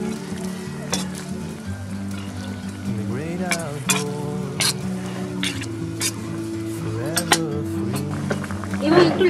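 Fruit chutney being stirred in a pan as food colour is mixed in, with a spoon scraping and clinking over a soft sizzle while someone talks throughout.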